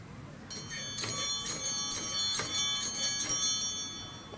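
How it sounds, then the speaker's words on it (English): Bells on an old Good Humor ice cream truck shown at a St. Patrick's Day car show ring in a string of bright, repeated strikes with a lingering metallic ring, fairly close, over faint background noise. "But it's got the bells, which I'll show you in a second here."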